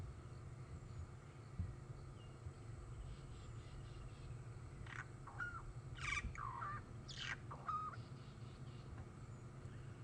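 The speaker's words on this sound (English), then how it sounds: "Beautiful bird song that we can hear." Birds call from a tree in the African bush during an evening safari drive, a few faint, far-off chirps and whistles over a steady low hum and a hiss like insects.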